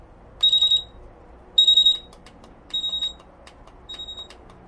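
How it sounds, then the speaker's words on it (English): A digital alarm clock sounds its alarm in four evenly spaced bursts of rapid high beeps, loud and close, with faint clicks between and no talk. "it's a flashing alarm. That means the alarm has been triggered"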